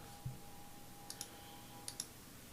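Computer mouse clicking while working in a web page builder, two pairs of quick, light clicks spaced under a second apart over a quiet, humming room, preceded by a soft low bump.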